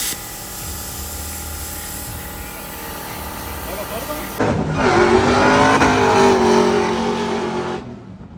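LS-swapped twin-turbo limousine engine running, first a steady idle-like rumble, then a sudden louder rev that holds for a few seconds before cutting off, close and loud.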